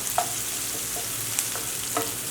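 Chopped onions frying in oil for jowar upma, with a constant soft sizzle and a few brief utensil taps and stirring scrapes.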